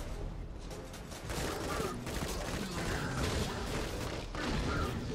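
Destiny 2 combat on PC with a grenade blast and sustained gunfire against Cabal enemies, dense continuous loud crackle and booms filling the whole stretch.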